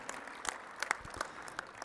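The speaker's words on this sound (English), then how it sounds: "At this time, yes, go ahead and clap" Scattered applause from a modest audience at a softball coaching Hall of Fame induction, sparse individual claps popping out distinctly rather than merging into a roar, fairly faint overall.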